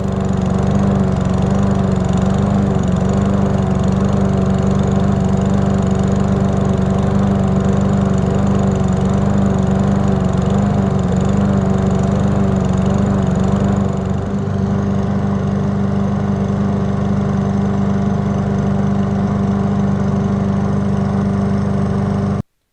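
A Poulan Pro push lawn mower engine runs loudly and steadily up close, its drone wavering slightly in pitch, with a brief dip before it shuts off at the very end; no talk.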